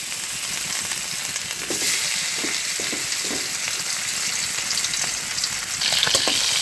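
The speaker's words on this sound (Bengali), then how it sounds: "কড়াইতে দেখো তেল দিয়ে দিয়েছি, মাছটা দিয়ে দিচ্ছি" Fish sizzling in hot oil in a kadai, a steady broad crackling fry that holds at an even level throughout, with a slight surge near the end and no voices.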